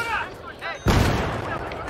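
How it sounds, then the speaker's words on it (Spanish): Mortar fire in the video game Battlefield 3, a sudden heavy booming blast that breaks through a busy mix of game noise and a talking voice. "¡Mortero, mortero, mortero!"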